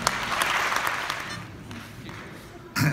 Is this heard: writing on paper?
no